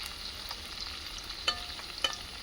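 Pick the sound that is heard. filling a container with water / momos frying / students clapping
momos frying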